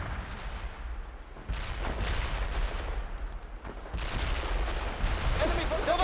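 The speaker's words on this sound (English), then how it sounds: "Let the artillery, let the mortars soften them up a little bit. They are engaging us! There is a target. Fire some rockets." Rockets and artillery fire in the World in Conflict: Soviet Assault game, rumbling booms and rapid volleys rolling one into another, loud and continuous with a voice speaking over the barrage.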